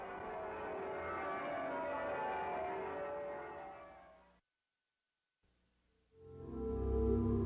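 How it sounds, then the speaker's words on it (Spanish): Gothic cathedral bells peal in a full, ringing cluster for several seconds, then fall silent; after a pause, a low rumbling sound swells in. "las campanas tocan y sus repiques gloriosos parecen anunciar una nueva esperanza"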